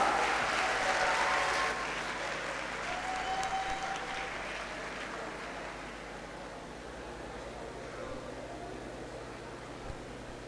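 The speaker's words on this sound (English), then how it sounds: "A big round of applause." Steady applause from a large audience at a university degree convocation, loud at first and then settling into a sustained, even clapping wash for several seconds.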